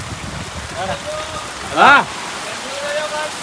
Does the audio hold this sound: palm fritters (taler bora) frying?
no